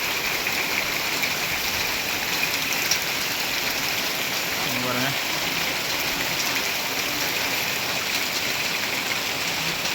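Heavy rain in a windy storm in Kerala pours down in a dense, steady roar that carries on throughout, and someone speaks briefly over it.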